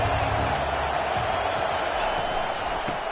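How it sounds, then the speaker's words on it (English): A stadium crowd in College Football 25 roars in a steady, dense wash of noise throughout, with no breaks, at a road game at NC State. "This crowd bringing an ear-splitting welcome to their visitors."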